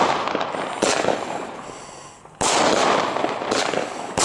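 A Nico Sweet Sixteen 16-shot firework battery fires outdoors, with rapid cracking launches and bursts in two loud waves of popping and crackle, no talk over it.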